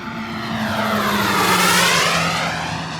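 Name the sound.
RC 2.1 meter F-86 jet model aircraft flying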